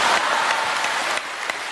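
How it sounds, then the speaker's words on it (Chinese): Audience applause at a live Deyunshe crosstalk comedy show in Wuhan, a dense steady clapping from a large crowd that carries on without a break through the whole moment, loud and close, with no voices over it. "可以鼓掌"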